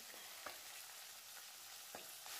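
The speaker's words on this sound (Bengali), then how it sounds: "এবার আমি আস্তে আস্তে মাছগুলোকে একটা একটা করে ভেজে নেব।" Sarputi fish frying in hot oil in a kadai, a faint, steady hiss of oil with a few soft taps from turning, quiet and without voices.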